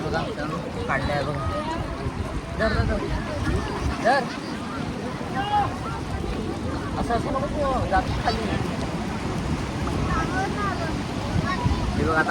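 Sea waves surge and wash around a small boat out on the sea, with rushing water and wind noise against the microphone, while people talk and shout over it throughout.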